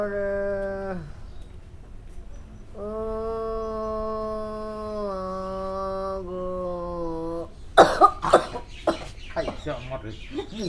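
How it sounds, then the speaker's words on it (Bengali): A few sharp, close coughs burst out in quick succession near the end of a comedy drama scene, following long drawn-out tonal vocal sounds. "মুখের সামনে কাশিটা মাইরা দিলা।"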